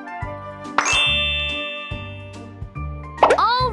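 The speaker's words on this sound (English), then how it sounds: "Now tap all the bubbles to pop" Bubbles popping as they are tapped in a Paw Patrol pup-washing video game: bright chiming dings and bouncy plops, several in quick succession over a looping cartoon music bed, with no talking.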